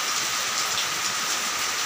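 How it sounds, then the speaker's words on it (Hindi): Heavy monsoon rain pours steadily outdoors at a ground, a dense, continuous hiss of downpour with no pauses, close and loud throughout. "देखिए ये बारिश चालू हो चुका है और वो भी बहुत तेज़ बारिश"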